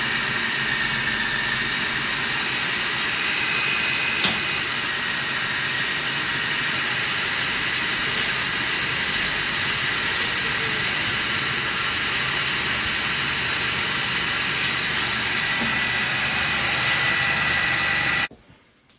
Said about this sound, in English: So after about a minute, just on high there with the food processor